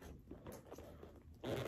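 A small zipper on an AliExpress handbag pocket being pulled, a short raspy run of teeth clicks ending in a louder scraping burst, close and fairly quiet.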